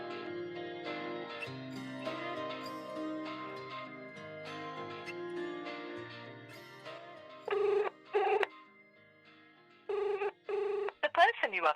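A phone on an outgoing call rings out unanswered, with a repeating ringback tone in evenly spaced bursts that plays over a musical backing and fades near the end.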